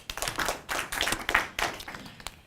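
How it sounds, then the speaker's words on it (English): Audience at a scientific conference clapping in short, uneven bursts, individual hand claps distinct and fairly close, tapering off within a couple of seconds. "Let's clap for her."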